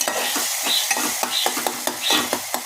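Tomato being sautéed soft in a pan for a quick black-eyed pea (chawli) curry, with a steady close sizzle broken by repeated scraping strokes of a spoon stirring the pieces.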